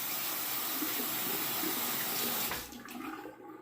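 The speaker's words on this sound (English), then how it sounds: "And I'll sort of rinse my hand off here." Tap water runs steadily into a sink as a hand is rinsed during a shave preparation, a loud continuous splashing rush that drops off and quiets near the end as the flow stops.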